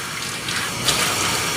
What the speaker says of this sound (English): Just keep going like this, running water through, squeezing it out